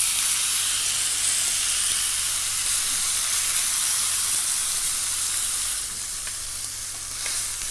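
A steak sears in a hot pan, giving off a steady, close, bright sizzle and crackle of fat that eases slightly toward the end, with no talking.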